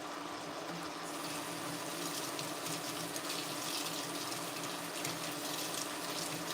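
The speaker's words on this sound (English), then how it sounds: "I'm going to rinse these really quick." Water running from a kitchen tap while rinsing fresh basil, a steady soft hiss and splash filling the whole stretch at moderate distance.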